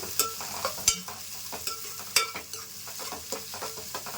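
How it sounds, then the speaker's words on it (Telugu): Chopped onions and green chillies fry in oil for a pond-fish curry, a soft sizzle punctuated by sharp, irregular spatula clanks and scrapes against the pan, close and without talk. "ఉల్లిపాయలు, పచ్చిమిర్చి ముందుగానే కట్ చేసి పెట్టాను కదండి, అవి కూడా వేసేసాను. వీటిని బాగా వేయించుకోవాలండి"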